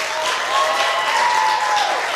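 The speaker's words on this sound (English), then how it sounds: "give the biggest, warmest, loudest round of applause to Miss Alicia Wethington" Church congregation applauding to welcome Alicia Wethington, a steady wash of clapping with a few whoops rising over it, fairly loud and close, lasting throughout.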